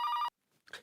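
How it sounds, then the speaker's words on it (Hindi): A telephone bell rings loudly in a comedy scene, one sharp burst of ringing that cuts off abruptly, then a short quiet pause before a faint noise follows. "लगता है फिरौती वालों का फोन होगा।"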